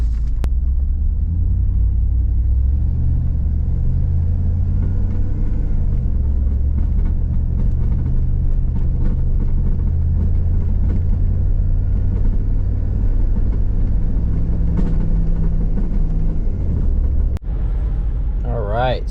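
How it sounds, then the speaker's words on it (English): Car with a 4L60E automatic transmission driving steadily, a continuous low engine and road rumble with subtle changes in pitch as the gears shift, and a brief knock near the end. "So we're getting some pretty clean shifts."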